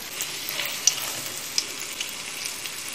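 Bonito fillets hitting a hot frying pan, a steady crackling sizzle of oil with small sharp pops, close and fairly loud, no talking.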